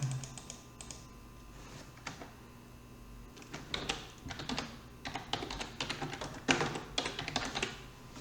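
Keys clatter in irregular bursts as a chart title is typed on a computer keyboard in Microsoft Excel, quiet at first and then busier, with close, crisp taps and no voices.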